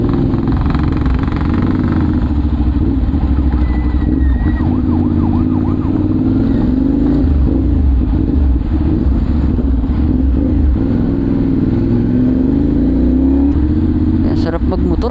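A CFMOTO 450SR motorcycle engine runs loud and close with a steady throbbing drone, its pitch rising and falling slightly as it revs, and voices can be heard faintly underneath.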